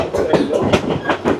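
A train on the way to the Grand Canyon pulls away with a rhythmic series of knocks and clacks from the wheels, about one every fifth of a second, heard close from on board with a hint of voices beneath.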